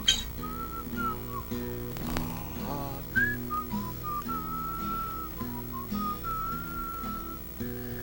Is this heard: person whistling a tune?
yes